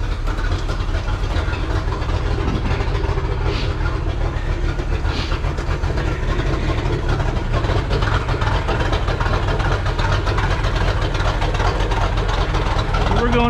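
Boat inboard/outboard (I/O) engine idling during winterizing, warmed to about 150 degrees, a steady low rumbling drone throughout with faint clicks on top and no clear speech.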